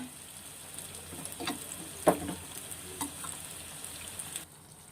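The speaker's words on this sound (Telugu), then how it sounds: "మధ్య మధ్యలో ఇలా గిన్నెని తిప్పుతూ ఉండాలి. అన్ని వైపులా పర్ఫెక్ట్గా కాలుతుంది." Sarva pindi, a Telangana rice flatbread, fries in oil in a covered pan with a soft, steady sizzle, broken by a few sharper clanks and scrapes as the pan is turned before the sound drops away near the end.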